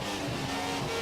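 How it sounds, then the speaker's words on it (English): A McLaren Formula 1 car in the F1 2017 racing game approaches at the Italian circuit, a steady, fairly faint engine drone held for about a second with no voices. "I think that's some McLaren coming up"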